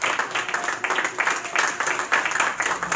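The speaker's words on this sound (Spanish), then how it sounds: "¿Cuántos dan ese aplauso al Señor con la gloria?" Continuous church congregation applause during a sermon, with dense, steady clapping, fairly loud and filling the whole stretch, with some voices faintly mixed in.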